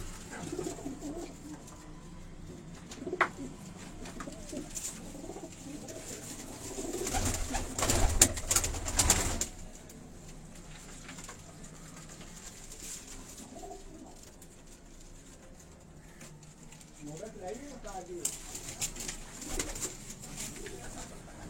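Pigeons coo on a rooftop in Kasur, soft repeated throaty calls scattered across the scene amid light background noise and a few louder rustling bursts, with faint voices in the distance.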